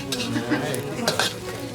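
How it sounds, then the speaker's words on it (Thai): Chili is dry-roasted in a pan with a close, rustling scrape as it is stirred repeatedly, over a light crackling sizzle, with no talking. "คั่วพริก แล้วก็ใส่ในหม้อ"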